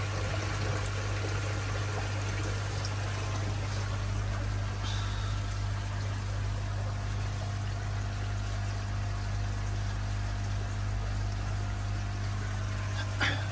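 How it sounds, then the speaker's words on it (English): Pond pump running at a filter house, giving a steady low hum beneath soft continuous bubbling and trickling water, with faint scattered splashes and no voices. "Now, pumps kick back in. The bubbles coming up as the turn to the front."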